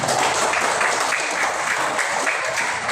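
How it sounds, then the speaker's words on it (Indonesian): An elementary classroom of pupils bursts into loud, sustained applause, with dense overlapping claps filling the whole stretch at an even level. "Oke, tepuk tangan."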